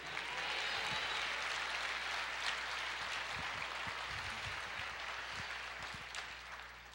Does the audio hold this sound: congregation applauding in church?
yes